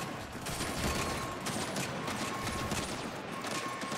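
Sustained gunfire in the video game Saints Row (2022), a dense continuous fusillade of shots with a steady roar, no pauses.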